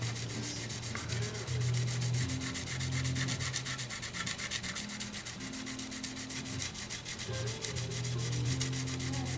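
Hand sanding of a gold top finish on a PRS guitar with 1500 grit sandpaper: a steady, soft rhythmic rubbing scratch that goes on without pause at close range, with no talking.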